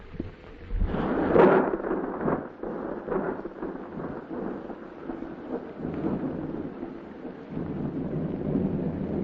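Thunderstorm sound effect for a 1949 radio mystery drama: a close rolling thunderclap near the start followed by continuous steady rain and wind filling the whole stretch, with no voices over it.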